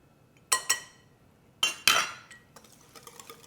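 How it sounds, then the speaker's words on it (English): Whisk clinking against a bowl while lemon juice and other ingredients for a Greek-style lemony olive oil cake are mixed: a few sharp metallic taps in two short pairs, fairly close, then softer scraping rattles. "we're just going to whisk these things together first, just like that"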